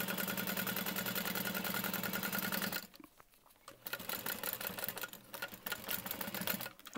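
A sewing machine stitches a structured tote bag, running in a rapid steady whir, pausing briefly near the middle, then resuming in two more runs; close and fairly quiet, no talking.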